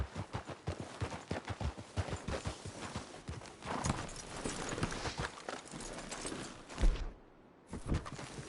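Horses in a PS4 video game trot with quick, steady hoof clip-clops on hard ground, layered with rustling noise and a brief louder thump near the end. The sound is fairly close and continuous.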